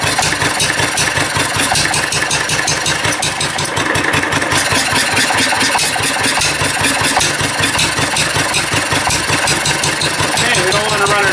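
The reassembled engine of a Wolseley car runs loud and close after restarting, a steady rhythmic throb with rapid firing pulses throughout.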